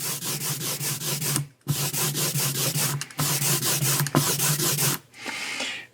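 An ink roller is rolled back and forth about an inch at a time to blend ink colours, giving a steady run of close, rhythmic rubbing strokes that pause briefly twice before a softer hiss closes it out.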